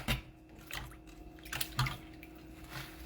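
Water poured out of a container while rinsing at a kitchen sink, short splashy gushes and drips, quiet and close, with no talk.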